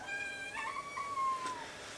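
A house cat gives a single drawn-out meow that slides downward, heard close and fairly soft indoors in a family home, with no talking over it.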